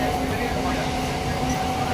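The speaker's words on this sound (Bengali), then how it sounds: "ফুলগাছিতে ট্রেনে উঠে পড়লাম" A train runs with passengers aboard after boarding at Fulgachhi station, a steady rumbling cabin drone with a faint tonal hum, and voices murmur inside the carriage.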